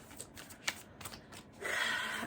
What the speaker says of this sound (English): Go ahead and get a little shuffle on it.